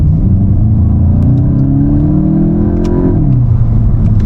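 A Volkswagen Golf GTI engine in sport mode drones loudly and close, its pitch climbing steadily under acceleration before dropping sharply as it shifts gear.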